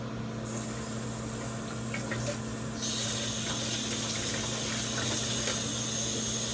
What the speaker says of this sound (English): now I'm going to rinse him off